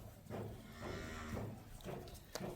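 Heavy bulls weighing around a tonne each moo at a livestock market, with several low, drawn-out calls close by over a steady background murmur.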